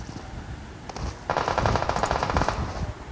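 Gunfire in a battle royale video game crackles in a few scattered shots and then a sustained rapid automatic burst, fairly loud and close.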